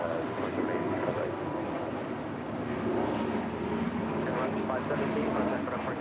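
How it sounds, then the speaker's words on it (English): Viva Aerobus Airbus A320neo airliner departing LAX for Guadalajara, a broad steady roar of jet engines heard from a distance, holding fairly even throughout with no nearby voices. "This is Viva Aerobus 517 departing to Guadalajara on an A320 Neo."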